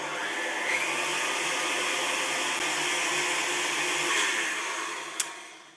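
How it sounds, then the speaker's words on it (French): A kitchen food processor runs steadily as it mixes flour and yeast for ciabatta bread dough, a continuous mid-level motor whir with a brief clack near the end. "vous activez votre robot et si vous êtes à la main, vous mélangez pour que ça soit intégré"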